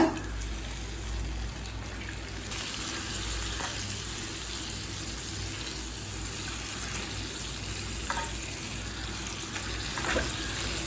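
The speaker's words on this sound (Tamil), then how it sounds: "இப்போ இது கூடவே கொஞ்சமாக தண்ணி சேர்த்துக்கலாங்க." Steady frying sizzle with a watery gush layered in as water is added to pav bhaji in a frying pan, continuous and close, with a few soft clinks along the way and no voices.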